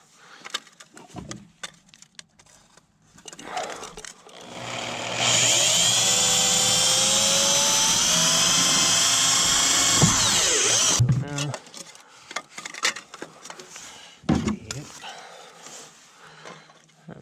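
A power drill whines for about six seconds, loud and close, drilling out a rivet on an Indy Trail 503 snowmobile, with handling clatter and a dog barking before and after it.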